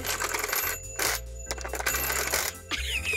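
A child's toy telephone clicks and rattles as its dial is turned, a series of close plastic clacks and whirring returns broken by brief pauses.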